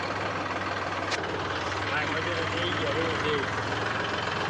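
A tractor loaded with stones idles with a steady low rumble close by, running continuously beneath a voice.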